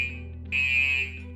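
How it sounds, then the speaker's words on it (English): Active buzzer of an anti-theft laser alarm giving a steady high electronic tone that swells louder for about half a second, then drops back, heard close with no talk. "So the buzzer creates a loud sound, acting as an alarm to alert you."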